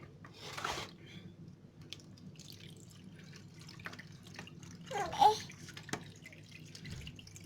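Water is poured into a jar of salted pickled turnips, trickling and dripping in short bursts with a louder splash near the end and faint voices in the background.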